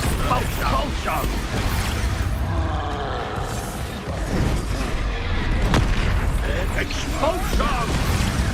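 Repeated booming blasts from the Expulso spell and other combat spells in the video game Hogwarts Legacy, bursts of impact and crashing under loud, excited talk that shouts spell names.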